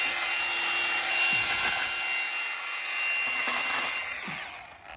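A Milwaukee M18 Hatchet cordless pruning saw cuts through small branches outdoors, giving a loud, steady, close buzzing rasp of blade on wood with a brief dip partway through.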